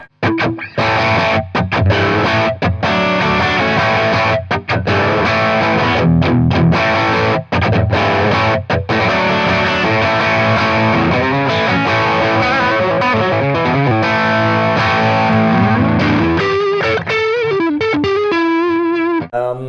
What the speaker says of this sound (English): We set it on big distortion, and it's pretty much mid to high gain right now